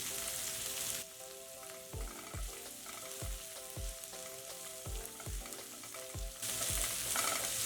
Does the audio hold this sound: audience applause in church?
no